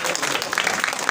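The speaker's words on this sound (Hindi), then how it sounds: "जोरदार तालियां असलम भाई के लिए" Brief burst of audience applause at a community gathering welcoming Aslam Bhai, a dense crowd clapping, steady and fairly loud for about a second with no talk over it.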